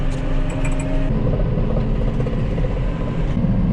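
A farm vehicle drives along a road between farms, its engine giving a steady, close rumble that runs without a break and has no talk over it.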